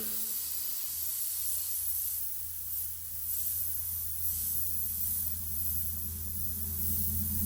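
An airbrush sprays paint over custom lettering, producing a continuous soft hiss close by with a faint low hum underneath, steady throughout.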